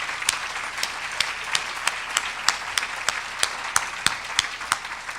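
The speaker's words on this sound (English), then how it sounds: "please join me in applauding them for their assistance" Audience applause at a conference session, steady close clapping from a crowd with sharp individual claps standing out, no talking over it.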